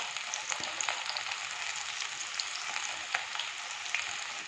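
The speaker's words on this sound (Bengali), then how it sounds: "এবার এগুলোকে আমি তেলে দিয়ে দেবো এক এক করে।" Methi nimki pieces frying in hot oil over medium heat, giving a steady, close crackling sizzle that runs unbroken throughout, with no voices.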